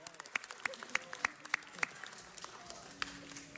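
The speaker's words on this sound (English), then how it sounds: "let's give them all a round of applause" Audience at a city council meeting applauding, a faint, distant patter of clapping with a few sharper individual claps standing out, steady for several seconds.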